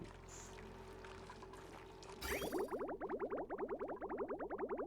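Game water gurgles and pours through pipes in Oxygen Not Included, starting about halfway as a loud, rhythmic run of bubbling pulses that repeat steadily over a low background hum.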